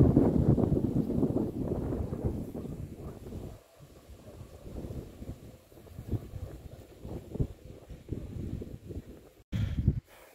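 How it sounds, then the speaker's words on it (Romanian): Strong, gusty wind buffets a rural house roof during metal roof tile installation, roaring loudly at first and then in uneven gusts and rustles, with a brief sharp noise near the end and no talk. "Bate vântul îngrozitor"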